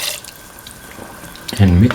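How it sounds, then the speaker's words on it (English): Coconut milk is poured into a pan for a beef and potato stew, a soft dripping pour followed by a short louder splashing gush, with a person talking. "Now pour in 500 ml of coconut milk"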